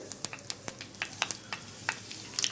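Fenugreek seeds crackle and sizzle in hot oil, a light, close patter of small pops and hisses with no voices.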